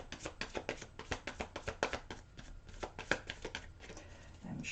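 Slippery, glossy tarot cards being shuffled by hand, a steady run of close, crisp riffling flicks and soft slaps, fairly quiet, with no talking.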